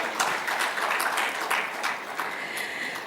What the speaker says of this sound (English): I think that deserves some applause.